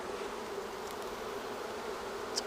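Steady honeybee buzzing hums from an open hive during a frame inspection, a dense continuous drone close by with no voices over it.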